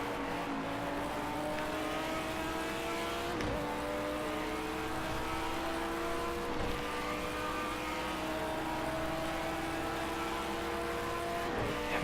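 A race car engine in a racing video game, set against Renault rivals, holds a sustained high drone with rising pitch through the gears and sharp dips at each shift, roughly every three seconds, steady and loud with no voices.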